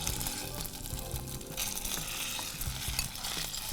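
Egg being scrambled in a hot pan for chicken chowmein crackles loudly and close, with busy rhythmic scraping and stirring of a spatula throughout and no talking.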